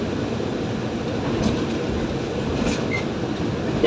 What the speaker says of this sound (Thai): เมื่อขบวนรถด่วนขบวนที่ 13 เข้าสู่สถานีอยุธยา